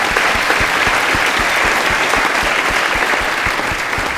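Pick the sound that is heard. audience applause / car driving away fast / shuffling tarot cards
audience applause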